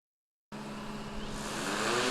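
A search-and-rescue drone lifts off into the sky during an autonomous rescue technology trial in Ulsan, its steady whirring drone starting abruptly after a brief silence and building slightly in loudness, heard alone without speech.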